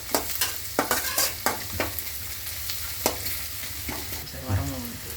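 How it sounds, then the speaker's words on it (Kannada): Garlic frying in oil in a pan for avarekalu chitranna, a soft steady sizzle broken by repeated scraping stirs of a spoon, close up and with no one talking. "ಬೆಳ್ಳುಳ್ಳಿ ಹಾಕಾದ್ಮೇಲೆ ಅದನ್ನೊಂಚೂರು ಆಯಿಲಲ್ಲಿ ಫ್ರೈ ಮಾಡ್ಕೊಳ್ಳಿ."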